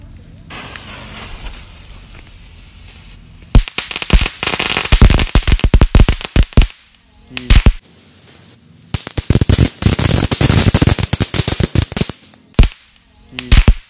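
Rapid strings of sharp pops from paper-wrapped mini firecrackers crackle in loud bursts with brief pauses between, close and harsh, with a voice heard now and then.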